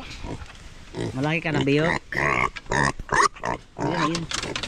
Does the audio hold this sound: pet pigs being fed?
yes